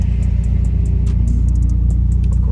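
A BRZ/GR86 with its rear seats removed rumbles along at a steady low drone, the exhaust a deep, even pulse heard from inside the cabin, with faint ticks and clicks over it.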